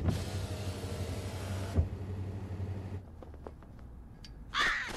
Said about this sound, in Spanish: Dos cuervos pelean por un vibrador.